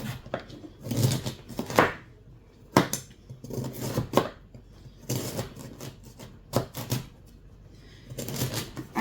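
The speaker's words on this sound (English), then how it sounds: "I don't think with this little knife I can cut them all at once" A knife chops through leftover turkey dumplings on a board, producing a series of sharp, close cuts and knocks in uneven bursts.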